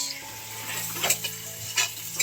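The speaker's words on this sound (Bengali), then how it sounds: "এই যে মা রান্না করছে হাঁসের মাংস" Duck meat cooking in a pan sizzles softly while a utensil scrapes and clinks against the metal several times.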